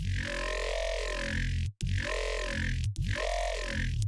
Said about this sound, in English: You can get this smooth vowel shifting effect as the growl opens and closes.